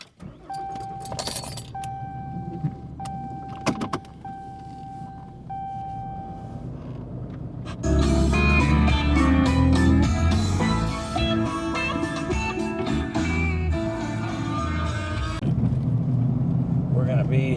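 Inside a truck at a dumpster and construction job: keys jingle and doors thump, then the engine starts and settles into a steady low rumble as the truck drives off, with people talking throughout.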